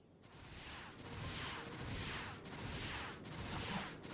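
Frenzied Firework, a spread-shot bow attack in the online game PSO2 NGS, fires as repeated bursts of crackling, whooshing discharges, about four broad blasts in quick succession at a moderate, steady level.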